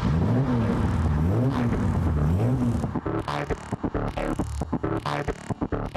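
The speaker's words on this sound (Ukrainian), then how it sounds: "Від самого лише звуку двигуна цього породистого звіра аж морозом сипле по шкірі." A 1951 Jaguar XK 120 engine revs on a street, its rising and falling throaty drone for about three seconds giving way to sharper clattering bursts as the sound settles.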